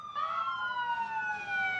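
Emergency vehicle sirens wail together at a nautical days parade, their tones gliding steadily downward at a moderate distance, with no talking.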